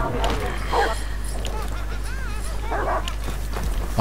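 A dog barks and yips in a Call of Duty match, a few short bursts over a heavy low hum, with a voice talking over the action.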